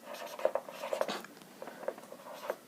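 Handwriting during an English grammar lesson: close, soft scratching strokes and small taps come in quick, irregular bursts with brief pauses between them.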